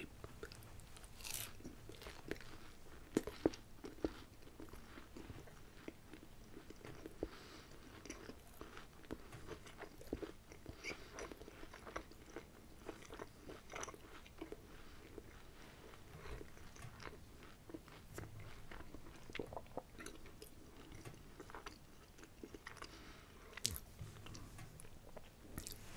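Quiet close-up chewing and crunching while eating Afghan food, with soft irregular bites and mouth sounds recorded intimately in an ASMR style over many seconds.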